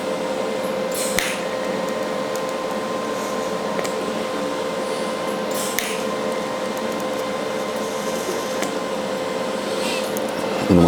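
Tack welding on metal gives a loud, steady, buzzing hiss that runs continuously and close up, with only slight surges and a few faint crackles.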